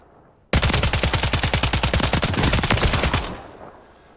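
Rapid automatic gunfire from an SVA 545 rifle in Call of Duty: Modern Warfare 3 bursts in after a brief quiet and rattles on steadily for about three seconds before cutting off.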